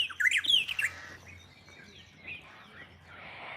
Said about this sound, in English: these were the first birds that I mean, not these specific birds, but the breed of the species of bird